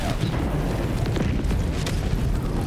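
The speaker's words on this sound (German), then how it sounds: "Spürst du die Explosion?" Rolling napalm airstrike blasts in Helldivers 2 level a forest, a dense continuous low roar of fiery explosions with crackling bursts layered on top, loud and sustained throughout.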